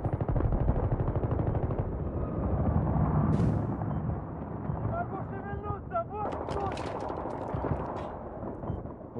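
Gunfire in Battlefield 3 on the Armored Shield map: dense, continuous machine-gun bursts and heavy blasts, loud and sustained, with a voice in the mix and brief higher chirps later.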